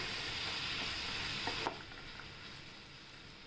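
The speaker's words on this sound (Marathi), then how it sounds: "परतून घेऊया आपण." Potatoes and green peas sizzle steadily in a hot pan as they are sautéed for a dry spinach vegetable dish, a soft continuous frying hiss with a few light scrapes of stirring, close and quiet.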